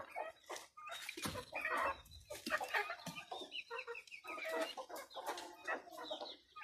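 A native brooding hen with her chicks clucks in busy, uneven bursts of close, fairly loud calls that overlap with softer chick peeps, and a dog may bark once in the mix.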